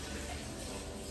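Tap water runs steadily into a kitchen sink while dishes are washed, a brief close, continuous splashing hiss.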